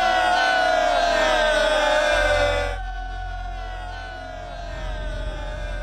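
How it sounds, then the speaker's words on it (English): A large army of soldiers cheers in a biblical battle film, a loud massed roar of voices that cuts off after a few seconds and leaves a low rumble underneath. "Listen to them cheer as if they think they can defeat us."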